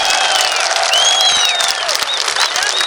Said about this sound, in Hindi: एक बार भरपूर तालियों के साथ इस्तकबाल करें शहबाज पाकिस्तान का